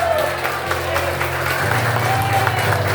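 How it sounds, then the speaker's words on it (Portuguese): A church congregation claps together in a steady, crowd-wide round of applause over sustained keyboard tones, lasting only a few seconds. "Os irmãos podem dar uma salva de palmas"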